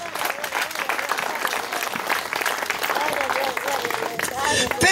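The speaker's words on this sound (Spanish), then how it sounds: "Fuerte aplauso para el Señor Jesús." A church congregation gives loud applause for the Lord Jesus at a Spanish-language sermon, dense clapping throughout with voices shouting and calling out over it.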